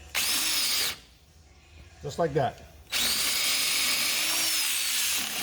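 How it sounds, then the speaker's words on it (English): A power drill whines loudly in two long bursts, drilling holes into a rubber lower strut bushing on a Dodge Nitro, broken by a short spoken phrase in the quiet gap between them. "all I do is take a drill bit and go in here"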